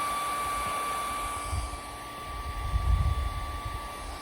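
A cordless vacuum runs steadily on upholstery, an even whining hum with a few soft low thumps and rustles of movement, and no voices.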